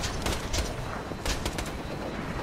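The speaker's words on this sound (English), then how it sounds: "And I have been shooting people with a missile launcher." A missile launcher fires repeatedly in the Borderlands 2 video game, with loud, bursting blasts and explosions in quick succession, some cracking sharply near the start and middle.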